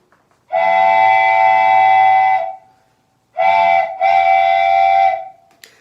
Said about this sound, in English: There were 4 whistles.